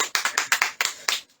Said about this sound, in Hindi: ताली बजाएंगे परमेश्वर।